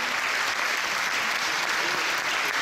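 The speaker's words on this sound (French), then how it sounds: "Attendez un applaudissement, s'il vous plaît." Dense audience applause at a Miss Poitou-Charentes 2017 beauty pageant, a steady loud wash of many hands clapping that fills the whole stretch without pause.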